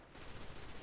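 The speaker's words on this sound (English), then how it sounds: "I just hear gunfire" Rapid automatic gunfire from a firefight in the video game Destiny, a dense continuous rattle of shots that fills the moment with no pauses.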